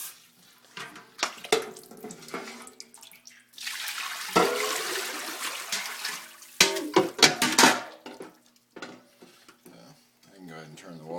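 Water runs from a kitchen tap over turkey neck bones to cool them, splashing in bursts with gaps between, while a person talks in between the pours.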